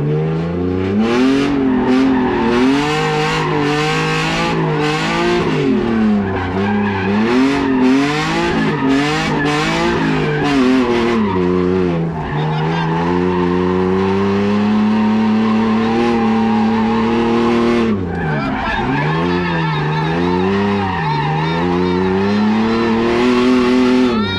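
A car drifts through a figure-eight in first gear at a drifting school, its engine droning and revving steadily while the tires squeal and skid almost continuously, loud and close for the whole stretch with no talking.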